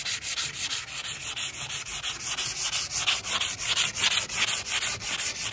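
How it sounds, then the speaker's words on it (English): Wood is sanded by hand before being stained for a patio makeover, close rhythmic rasping strokes repeating steadily, each scratch rising and falling with no voices. "Now I hate sanding, but this gotta be done."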